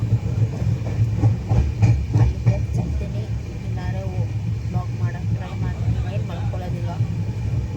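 A train rumbles steadily along the rails with rhythmic clacking, loud and continuous, as people talk nearby inside the carriage.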